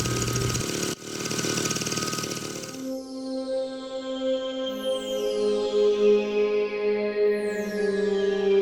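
A motorcycle engine idles steadily at close range after a burst of broadband noise, its low hum holding an even tone with faint whirring rising over it.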